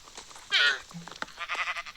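A short sheep bleat rises briefly out of quiet Minecraft game ambience, followed by faint wavering animal calls.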